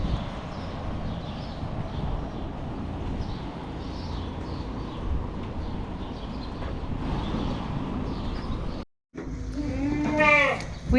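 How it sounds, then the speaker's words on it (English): Goats bleat amid outdoor background noise, with a clearer, closer bleating call rising near the end after a brief gap. "We have baby goats everywhere."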